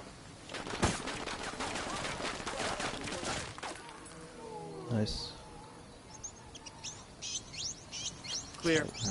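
Birds chirp in short, faint tweets in Ghost Recon Wildlands, following a dense burst of gunfire, with voices talking in the background.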